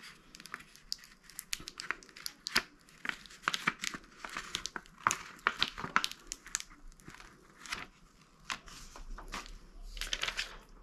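Transfer tape is peeled slowly off plastic, giving close, crinkly crackling and tearing sounds in irregular bursts against a quiet background.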